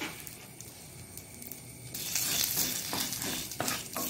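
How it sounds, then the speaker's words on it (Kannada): Curry leaves, coriander seeds and cumin roast in a pan over low heat, starting as a quiet hiss and then turning to louder crackling and popping with scraping stirs, close by and without speech. "ಸ್ವಲ್ಪ ಒಂದು ಅರ್ಧ ಎಳೆಯಷ್ಟು ಕರಿಬೇವು, ಕೊತ್ತಂಬರಿ ಬೀಜ ಹಾಗೂ ಜೀರ ಇಷ್ಟನ್ನು ನಾವು ಸಣ್ಣ ಉರಿಯಲ್ಲಿ ಹುರಿದುಕೊಳ್ಳೋಣ"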